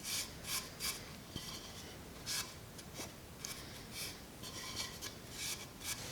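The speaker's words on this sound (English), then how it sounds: "So I think just a little bit of wax around the inside." Wax rubbed around the inside of a small friction-fit wooden box, heard as faint, close, rhythmic scratchy rubbing strokes repeating steadily against quiet background hiss.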